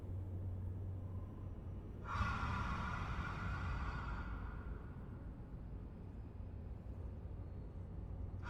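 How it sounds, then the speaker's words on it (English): Unsettling breathing in Outer Wilds: a slow, airy exhale surges over a low droning ambience, holds for a few seconds, then falls away, leaving the quiet rumble alone. "God, those breathing sounds are so creepy"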